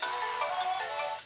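A phone ringtone plays for an incoming call, a bright steady melodic tone, loud and close, lasting just over a second with no talking.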